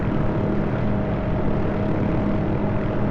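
A Hughes OH-6A helicopter hovers in the DCS flight simulator, its turbine whine and rotor drone forming a loud, steady, unbroken mechanical hum throughout.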